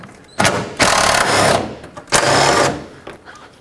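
A power tool whirs in short bursts while removing 10mm fan shroud bolts on a Chevy Express 3500 van, with two loud buzzing runs separated by a brief pause, close up.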